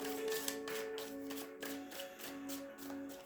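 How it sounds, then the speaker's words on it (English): Soft, quick riffling and tapping of tarot cards being shuffled by hand, repeated in short bursts, close and quiet. "Give you a few hand shuffles here."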